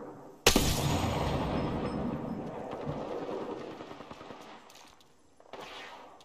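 Gunfire in Apex Legends erupts with a sudden loud crack, followed by sustained rapid shots that gradually fade, then a brief later burst near the end.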